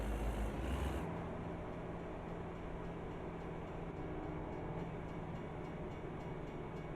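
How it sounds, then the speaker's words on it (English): Train passing in American Truck Simulator, a low steady rumble with a rhythmic clatter that holds at an even, fairly faint level for several seconds. "Oh, train's coming somewhere."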